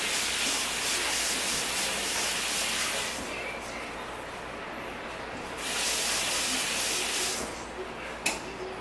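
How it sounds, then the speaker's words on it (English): Water runs steadily from a kitchen tap over a utensil being rinsed while making Mongolian chicken, a broad continuous hiss that drops partway through and then surges back, ending with a small clink. "let's rinse this off just in case I'm gonna need it again"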